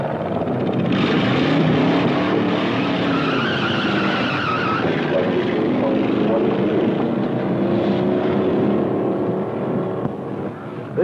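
Car engine roaring steadily on a 1950s hot rod test track, a loud sustained drone with skidding tire noise throughout, voices briefly audible underneath.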